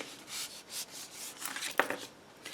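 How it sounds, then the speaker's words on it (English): A bone folder burnishing a score line on paper for a fold-flat treat pouch, heard as soft repeated rubbing strokes, close and fairly quiet, with a sharper scrape near the middle. "burnish that score line with your bone folder"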